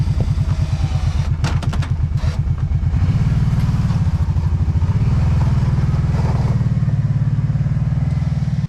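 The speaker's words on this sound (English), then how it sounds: "I can come in quite easily behind with the ATV. No problem to clear the snow." A Kawasaki ATV engine runs steadily while clearing snow between buildings, with a loud, close, continuous mid-pitched drone. A few clattering knocks sound early on, and the engine note settles and rises slightly partway through.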